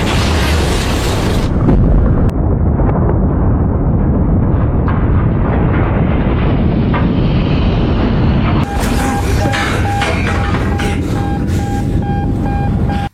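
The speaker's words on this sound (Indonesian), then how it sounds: "Hingga tiba-tiba torpedo itu pun meledak" A loud, rumbling torpedo explosion inside a submarine with a sustained booming roar, followed by crackling, clanking debris and a high alarm-like tone, enclosed and close.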